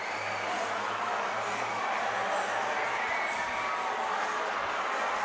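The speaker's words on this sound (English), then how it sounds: "The crowd rushes the floor," A high school basketball crowd rushing the floor in a gym, a dense, steady roar of cheering and shouting voices filling the space from start to finish.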